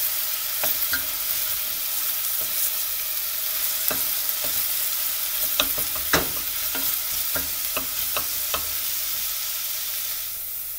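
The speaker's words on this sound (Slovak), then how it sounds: "Počas smaženia cibulku s cesnakom premiešavame podľa potreby tak, aby sa nám nepripálili." Onion and garlic fry in a pan with a steady bright sizzle throughout, broken by occasional scrapes and taps of a utensil as they are stirred, with no talk.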